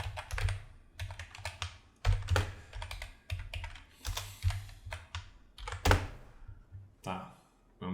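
Keys clacking on a computer keyboard during Python hash-table coding, a burst of quick taps then a few separate keystrokes for a copy and paste, close and fairly loud, with a soft voice murmuring underneath.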